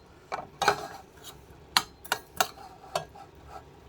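A spoon clinking and scraping in a bowl while corned beef and fried onion paste are mixed, producing a handful of sharp irregular taps and scrapes with quiet gaps between, close and fairly soft.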